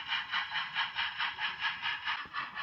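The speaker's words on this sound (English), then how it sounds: "As our train heads up the main line." Model railway train running along the main line of a layout, a steady rolling hum with regular rhythmic pulses as it travels, fairly close and alone.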